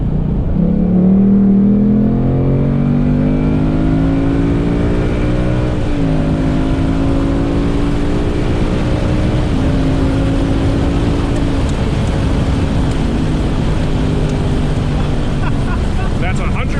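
A 2018 Ford Mustang GT engine roars loudly from inside the car, its pitch stepping down through downshifts and rising again in sustained revs, with voices speaking over the constant engine noise.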